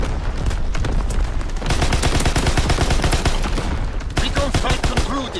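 Artillery barrage in the Call of Duty WW2 multiplayer game, a loud, continuous stream of rapid shots and blasts pounding throughout, with occasional in-game voices.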